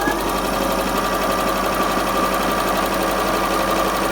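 A Bernette b37 sewing machine embroidering a letter in a narrow 2 mm zigzag stitch, a steady fast mechanical whirring hum with rapid needle chatter, close and continuous with no talk.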